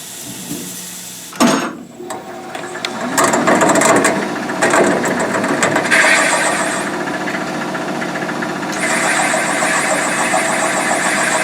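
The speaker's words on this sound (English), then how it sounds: "Now we're set up to trim the K-lines down on the exhaust side." A machine trims K-line valve guides on the exhaust side of a cylinder head, giving a loud, steady mechanical whir that starts with a brief burst and then runs continuously, with no talk over it.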